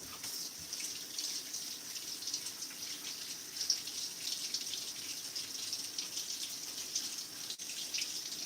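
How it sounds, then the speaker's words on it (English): Running tap water streams steadily into a sink while lotus root is rinsed beneath it, a continuous close hiss of flowing water with no talking. "Peel and rinse the lotus root."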